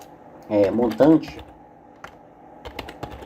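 A computer keyboard is typed on while a program is written; after a person speaks briefly, a few sparse, fairly close key clicks follow.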